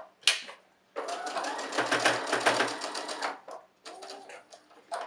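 A sewing machine top stitching around a fabric face mask, running in close, loud bursts of rapid needle chatter, one brief, then a long sustained run, then another short stretch, with brief pauses between.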